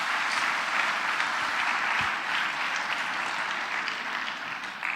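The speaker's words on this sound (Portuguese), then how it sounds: "Quantos podem aplaudir esse irmão?" Sustained applause from a church audience for a young man standing up, an even, dense crackle of many hands clapping at moderate distance, fading only slightly toward the end with no speech over it.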